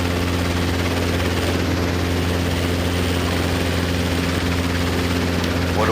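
A Robinson R22 helicopter taxis for departure on an airfield taxiway, its engine and rotor producing a steady, loud, close droning hum with constant tonal whine, uninterrupted for the whole stretch.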